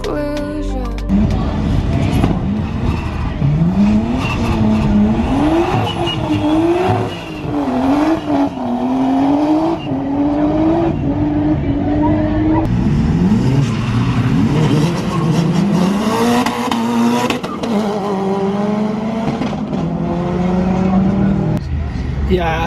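A Mazda RX7 race car powered by a turbocharged Honda K20 engine laps a wet racetrack, its engine revving hard and repeatedly climbing through gears close by, with someone speaking over it at times.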